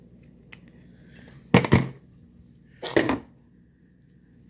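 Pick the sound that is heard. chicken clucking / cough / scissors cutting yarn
scissors cutting yarn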